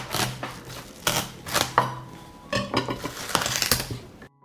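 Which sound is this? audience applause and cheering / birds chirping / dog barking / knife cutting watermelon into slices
knife cutting watermelon into slices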